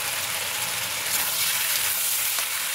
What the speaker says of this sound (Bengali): তোমরা দেখতে পাচ্ছ এখানে চিকেন কষানো হচ্ছে